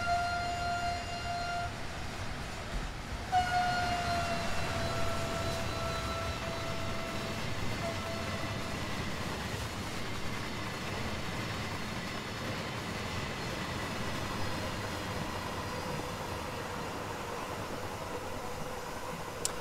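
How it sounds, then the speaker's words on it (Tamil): A sustained train horn blares with steady tonal notes over a loud, continuous rumble of a moving train. "ஸோ ஒரு ஹார்ன் ப்ளோ பண்ணுவோம்."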